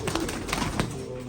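Soft bird cooing mixed with a low, murky background hum, a few brief louder calls standing out over a steady bed of sound.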